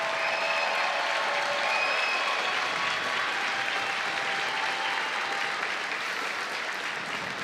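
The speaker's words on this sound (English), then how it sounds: "Please give a warm round of applause to the Ohio State University Buckeyes." Broad, steady applause from an arena crowd honoring the Ohio State Buckeyes women's hockey team at the WCHA championship, a continuous wash of clapping heard from a distance.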